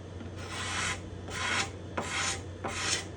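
A hand scraper drawn across the bindings and purflings of a spruce guitar top, four close, dry rasping strokes in an even rhythm with short pauses, no voices.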